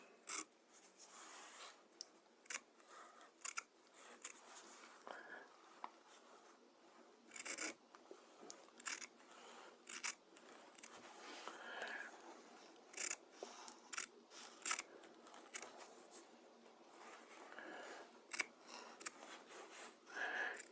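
Scissors snip and trim fabric along a rolled baby hem, giving a run of close, quiet cuts and rubbing strokes in an irregular rhythm with no talk over them.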